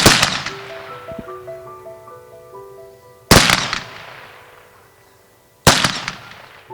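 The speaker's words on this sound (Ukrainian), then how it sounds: "Знак шани пролунали постріли з автоматів почесної варти." Three sharp volleys from an honor guard's automatic rifles at a military funeral ring out several seconds apart, each a loud crack followed by a long fading echo, with a faint tone lingering after the first.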